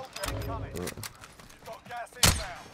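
Gunfire in Call of Duty: Modern Warfare, with scattered shots under ongoing talk and one loud, sharp blast near the end.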